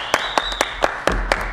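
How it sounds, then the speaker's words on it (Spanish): Steady rhythmic clapping from a television studio audience greeting the clown Palita, about seven sharp claps in an even beat, close and fairly loud, with no talking. "un aplauso"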